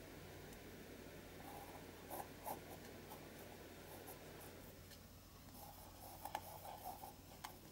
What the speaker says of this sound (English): So I'm going to just do a little bit of writing around the side.